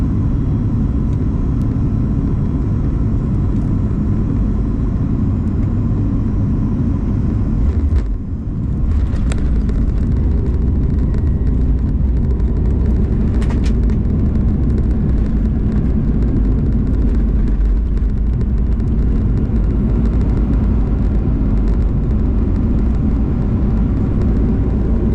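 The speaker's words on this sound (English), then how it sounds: "Now we are vacating our way off the runway and on the way to the taxiway after our amazing 6-hour flight from Anchorage." A loud, steady cabin rumble from an Alaska Airlines Boeing 737 MAX-9 taxiing off the runway after landing in Honolulu, with a brief dip and thump partway through.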